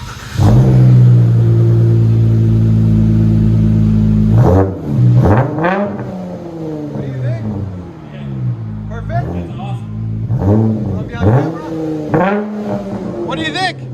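A 2022 Dodge Challenger with a 3.6L V6 and Vibrant resonator exhaust idles loudly and then revs repeatedly in sharp rising bursts, close up, with people talking between the revs.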